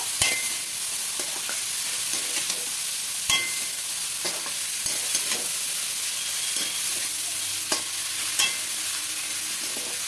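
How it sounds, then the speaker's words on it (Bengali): Chopped cabbage tossed with spices in a pan for a coconut cabbage ghonto hisses in a continuous sizzle, with light, irregular spatula scrapes and clicks throughout. "এবার কেটে রাখা যে বাঁধাকপিগুলো, এটাও দিয়ে দেবো। খুব ভালো করে মিশিয়ে নেব।"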